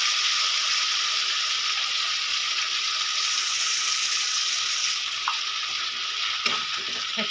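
Spice masala with turmeric being stirred and fried in oil for a fish and vegetable curry: a continuous sizzle and hiss, with a few faint stirring knocks toward the end.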